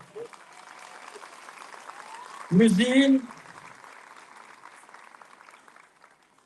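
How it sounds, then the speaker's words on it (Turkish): Soft, continuous applause for an orchestra of Ataşehir municipal employees at a 30 August Victory Day event, heard at a distance, with a voice breaking in loudly over it midway. "Sizlerden onlara büyük bir alkış öncelikle."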